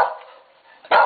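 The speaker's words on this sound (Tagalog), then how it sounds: "Ito yung aso malaya." Dog barking nearby: two loud, sharp barks separated by a brief quiet gap, heard alone without talk.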